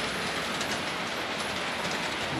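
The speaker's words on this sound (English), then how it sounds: "HST's just coming through there." An HST model train runs steadily through a model railway layout with a continuous, even rumble and a faint high whine, no talk heard.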